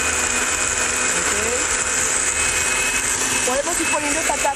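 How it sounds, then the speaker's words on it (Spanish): Fast blender running continuously and loudly while blending mole pepita for pork with chilacayotes, a steady high whir with a voice faintly audible beneath it. "Es una licuadora veloz."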